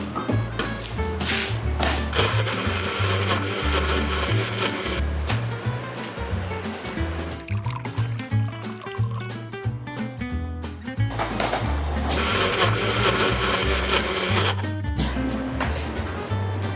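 An electric mixer beats sugar and sifted flour into cake batter, giving a loud, close, continuous whirring grind with a rumbling low hum that eases briefly midway before picking up again.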